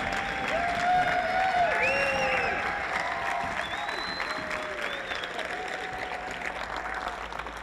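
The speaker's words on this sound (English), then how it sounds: "give him a big round of applause for making this happen" An audience applauds and cheers, with whoops and a few raised voices over a wash of clapping that gradually settles.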